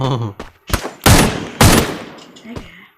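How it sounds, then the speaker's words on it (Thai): Gunfire in the mobile shooter Free Fire, several loud sharp bursts in quick succession with a voice talking briefly between them. "ยิงไปแล้วครับตอนนี้หนึ่งนัด"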